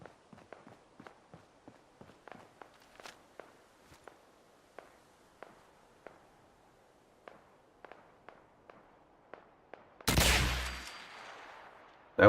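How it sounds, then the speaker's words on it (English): A series of sharp, quiet gunshots in Fallout 4 crack at uneven intervals, followed near the end by a sudden loud blast. "It's a little bit annoying when you got gunfire the whole time."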